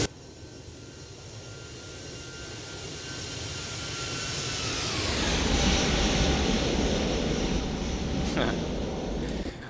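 Airbus A320 engines in the X-Plane 12 flight simulator, a TAP Air Portugal flight from Lisbon to Porto, hum steadily before swelling around midway into a loud, sustained roar as thrust builds for takeoff and holds to the end.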